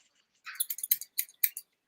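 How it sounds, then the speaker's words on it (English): A run of crisp, close snips from scissors cutting through felt, about eight quick cuts in an uneven rhythm in an otherwise quiet room. "Can you hear my scissors?"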